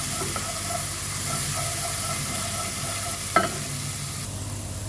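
Ginger garlic paste frying in a pan gives a steady, dense sizzle and hiss throughout, with a brief clink of a utensil against the pan near the end.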